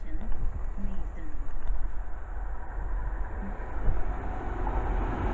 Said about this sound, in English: we have a Chiltern Railways clubman passing by